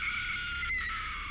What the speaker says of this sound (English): I heard the blood-curdling scream of my girlfriend